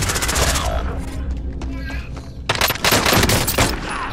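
Rapid gunfire bursts from a video game shootout, loud and close, coming in dense volleys with a short lull in the middle before resuming heavily.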